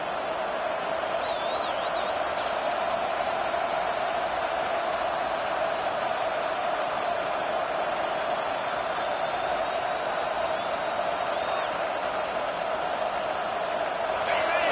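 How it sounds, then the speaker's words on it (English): A fired-up football stadium crowd roars as a dense, steady wall of noise, loud and unbroken throughout, with faint whistle-like tones rising briefly above it. "this crowd is fired up. Listen to this noise here"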